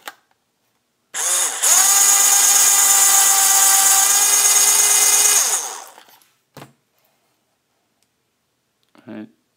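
A case trimmer shaves the mouth of a .223/5.56 brass cartridge case, giving a loud, steady whirring buzz that runs for about four seconds before cutting off, followed by a couple of faint clicks.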